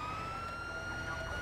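An ambulance siren in the video game GTA 5 sounds steadily and loudly, a continuous shrill tone over engine and road rumble.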